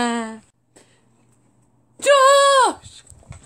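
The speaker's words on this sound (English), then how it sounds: "Sheep!" A short bleat is cut off at the start. After a pause comes a louder, wavering sheep bleat, then quiet rustling.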